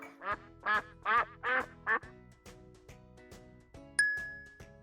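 A duck quacks five times in a quick, bouncy run, close and clear, over gentle plucked music, followed by a bright chime ringing out near the end.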